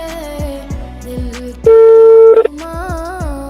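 A phone call being dialed, one loud steady tone from the handset cutting in over a background of music with plucked notes and sustained melodic lines.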